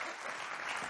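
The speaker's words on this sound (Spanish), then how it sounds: "Un aplauso, por favor." An audience at a public event at the port of Huelva gives a round of applause, a brief, fairly distant wash of clapping.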